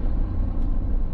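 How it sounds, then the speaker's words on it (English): Road traffic noise rolls past near a country park in Longbenton, Wallsend, Newcastle upon Tyne, a brief loud continuous rumble of passing vehicles with no voices. "Sorry about the road noise."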